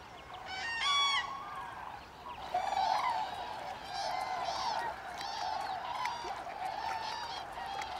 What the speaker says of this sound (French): Les grues cendrées arrivent tout juste de Scandinavie.